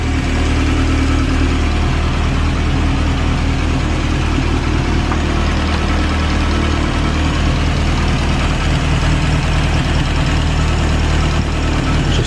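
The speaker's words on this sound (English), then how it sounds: "It's a pretty sweet sounding engine," A 1930s-style Morris 8 Series 1 classic car engine idles steadily and loudly close by, with a continuous low rumble and fine rhythmic pulsing throughout, no voices.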